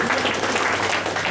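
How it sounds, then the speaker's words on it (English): An audience applauds at a seminar in a steady, dense burst of clapping that runs loud and close for the whole stretch. "Give a clap to yourself."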